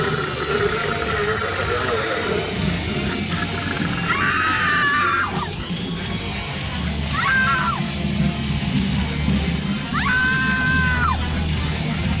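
A woman screams several times in a short sequence, high, wavering cries rising over a noisy rumbling background, each lasting about a second with pauses between.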